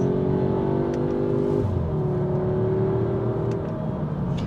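Audi A3 road-test car engine revving after a downshift, a loud steady drone heard from inside the cabin that shifts pitch partway through as the gear changes, with light road and wind noise.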